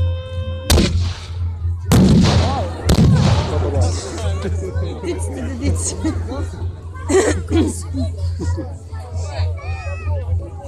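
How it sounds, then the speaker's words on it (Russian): Three sharp, loud shots ring out at a battle reenactment in the first few seconds over a crowd murmuring and chattering in the background, which continues afterward. "Они там стреляют, и пушки подкатывают потихонечку."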